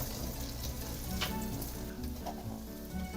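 Onions frying in oil and butter at the start of a beef bourguignon, giving a steady, dense sizzle with a faint stir or clink partway through, heard alone without voices.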